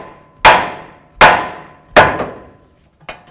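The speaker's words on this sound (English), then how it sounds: "Now we're gonna bonk right here on the knuckle." Three loud, ringing hammer blows strike the steering knuckle of a 2008-16 Chrysler Town & Country at an even pace, each followed by a short decaying ring, and a fainter fourth tap comes at the end.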